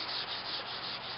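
Steady, continuous rubbing hiss of 180 grit sandpaper being worked over a car bumper, a close, even scratchy wash with slight rhythmic swells from the back-and-forth strokes, with no talk.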